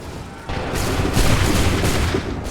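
Musket volley gunfire in Assassin's Creed III Remastered, a dense roaring crackle of many shots that swells after a quieter start and sustains loudly to the end, with no talk.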